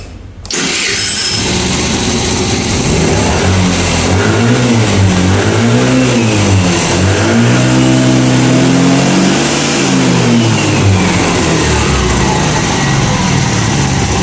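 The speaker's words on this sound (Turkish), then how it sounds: "Marşımıza basıyorum." A motorcycle engine starts after a valve adjustment, catching quickly and then revving up and down in loud, rising and falling swells before settling into a steady high-pitched run.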